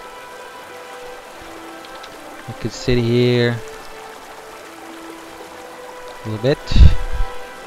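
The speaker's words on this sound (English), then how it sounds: "Water sounds great." Flowing water in the Guild Wars 2 game world, a steady soft wash running through the whole scene, with brief spoken voices and other game sounds rising over it in two short bursts.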